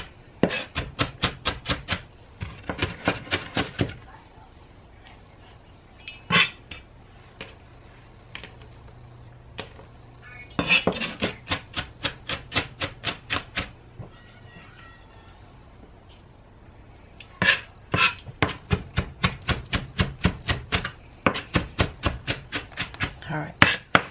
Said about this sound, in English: I'm just going to give it another little chop.